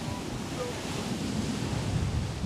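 Waves surge onto a Jamaican shore in a steady, loud roar, with wind buffeting the microphone throughout and no voices.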